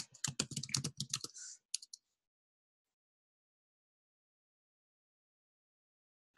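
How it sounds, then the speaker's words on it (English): Quick bursts of keystrokes on a computer keyboard as a search is entered, a dense flurry of clicks lasting under two seconds, then near silence apart from one faint tap at the end. "let's type in beach restaurant"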